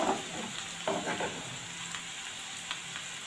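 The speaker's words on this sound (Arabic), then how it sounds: "هنزل عليها بفصين الثوم المتقطعين كويس او" Minced garlic fries with chicken shawarma in a home kitchen pan, a soft steady sizzle broken by scraping stirs. The sound is close and quiet, with no talking.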